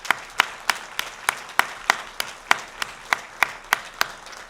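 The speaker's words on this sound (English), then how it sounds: "Let's have a round of applause for all our newly tenured and promoted faculty." At an academic convocation, people clap in a slow, regular rhythm for newly tenured and promoted faculty, with a spread of softer clapping behind it and no talking.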